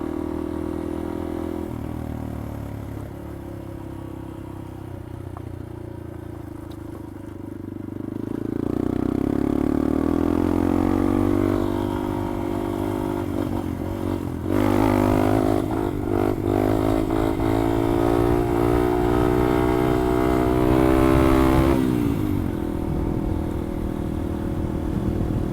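A Yamaha XT250 dual-sport motorcycle is ridden, its single-cylinder engine droning steadily and rising in pitch as it accelerates through the gears, with wind rush and some clatter, close and continuous.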